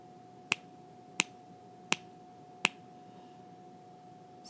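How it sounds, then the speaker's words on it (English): Four crisp finger snaps, evenly spaced about a second apart, sharp and close against a quiet background hum. "I'm going to snap my fingers now."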